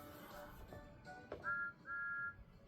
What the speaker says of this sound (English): Stephanie's whistle sounds like from Thomas's whistle and different whistle.